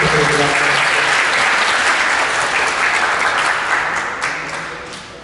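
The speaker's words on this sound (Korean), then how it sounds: "박수 부탁드립니다." A ceremony audience at a school mentor-mentee program applauds warmly for a mentor being introduced. The clapping is dense and steady, then gradually fades toward the end.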